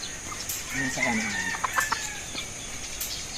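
Gamefowl, Red Goldenboy hens and stags, clucking and crowing in short bursts over a hissy outdoor background, close and moderately loud, with one brief crow near the start.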